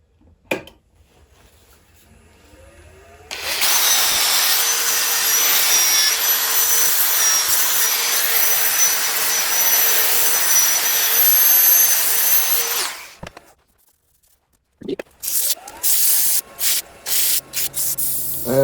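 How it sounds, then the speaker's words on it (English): Sandpaper rubs against a spinning turning of hard, dense kiawe wood on a lathe, a steady loud abrasive hiss lasting about ten seconds, followed by a pause and short intermittent scrubbing bursts. "start sanding from 60 to 400"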